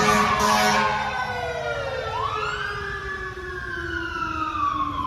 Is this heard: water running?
no